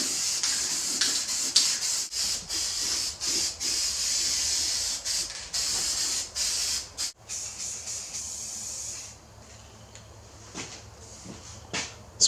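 A $1 can of flat black spray paint hisses in bursts over a mower wheel, with several short stops and restarts before the spray fades and sputters as the nozzle clogs.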